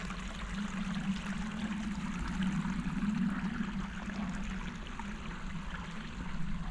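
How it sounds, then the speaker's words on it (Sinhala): A small stream flows through Richmond Park on an autumn day, making a continuous, even rushing and trickling wash that stays steady throughout without any talk. "පොඩි වතුර එකක් යනවා ඇලක් නේ කියන්නේ"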